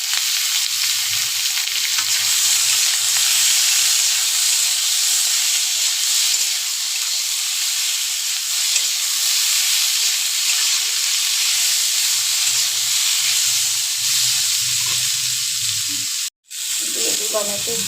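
Boiled shola kochu (taro) frying in a pan with moong dal, giving a loud, continuous close hiss and sizzle that runs almost unbroken, cut by a brief sharp drop near the end.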